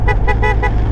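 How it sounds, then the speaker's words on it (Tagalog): A vehicle horn toots four quick bursts in a lively rhythm, loud and close over a steady engine hum, while riding a mountain road on Bohol island. "Dapat pala hindi ko tinigil yung busina."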